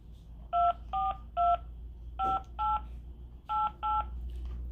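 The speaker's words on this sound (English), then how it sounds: "Let me see if I can dial my phone" Phone keypad tones beep in short, evenly pitched bursts, three quick presses, a pause, two more, another pause and a final pair, clear and close over a low steady hum.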